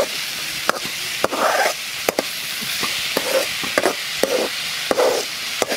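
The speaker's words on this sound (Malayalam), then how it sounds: "എന്നിട്ട് നല്ലപോലെ ഒന്ന് മിക്സ് ചെയ്യാം" Grated papaya for a Kerala thoran is stirred and tossed in a hot pan, with soft scraping sweeps and sharp spoon taps against the metal over a steady low sizzle, and no one speaking.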